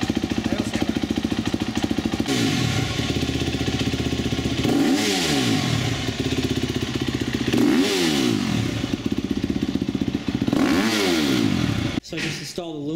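A KTM motorcycle engine runs steadily and loud up close, with three rising-and-falling revs partway through before it cuts off near the end.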